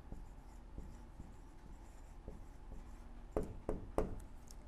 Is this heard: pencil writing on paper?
yes